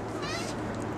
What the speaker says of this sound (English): She meowed.